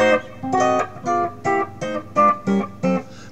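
A diminished seventh chord is played as eight short, evenly spaced stabs in a steady rhythm, each cleanly separated, close and alone with no talking.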